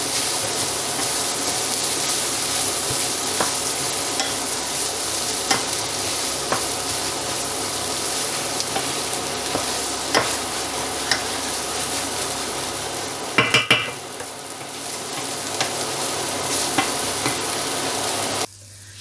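Egg and onion bhurji cooking in a pan on a switched-off stove, giving a continuous soft sizzle and hiss with occasional scraping stirs and a brief louder clatter near the end before it cuts off.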